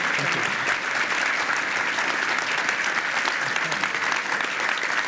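A large audience applauds Professor Munjed al Muderis after a keynote conversation, a dense, steady wash of many hands clapping at once, loud and sustained throughout with no pauses.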